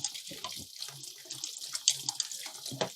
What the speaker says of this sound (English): I'm going to let it overflow so that fresh water starts flowing in and the acid starts flowing out.